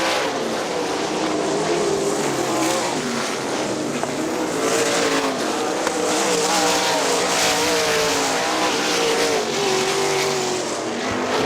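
Sprint cars race around Kokomo Speedway, a continuous loud roar of high-revving engines rising and falling as the pack circles the dirt oval, with no break in the noise throughout.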